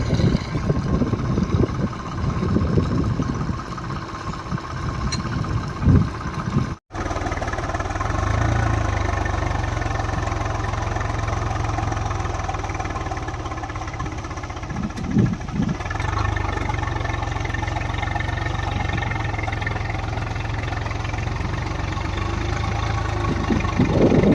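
A tractor engine runs steadily at a low, even drone while the tractor is driven in a field, with one brief dropout partway through and a slight change in pitch later on.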